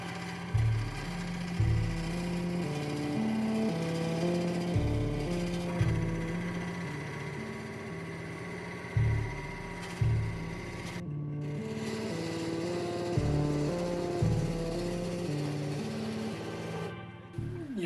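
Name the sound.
wood lathe turning a lightsaber prop with chisel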